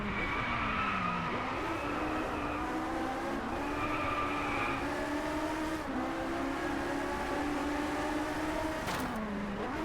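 Cars drift and skid in the racing game Driveclub, engines droning steadily with layered rising and falling pitch lines, tire squeal woven through the whole stretch and a sharp transient near the end.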